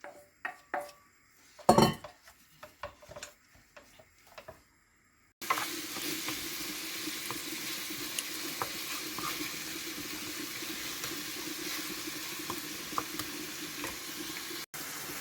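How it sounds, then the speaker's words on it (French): Minced meat dropped into a pan of hot olive oil, a few clinks and scrapes first, then a sudden steady loud sizzle of frying that continues to the end. "Dans la poêle, je vais mettre un peu d'huile d'olive. Juste 2 ou 3 cuillères à soupe. Et puis, je mets toute la viande hachée."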